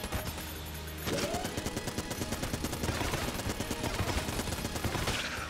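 Blank ability in Enter the Gungeon clearing bullets: after a quiet second, a dense, steady barrage of rapid gunfire-like bursts and pops fills the rest, loud and continuous with no talk.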